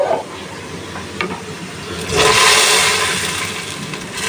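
Hot tempering (baghar) poured into cooked dal: a low background hiss swells suddenly into a loud, broad sizzle about halfway through, then eases slightly while holding on.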